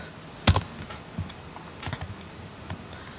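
Keys tapped on a computer keyboard, one sharp close click followed by a few softer, irregular keystrokes over low background hiss.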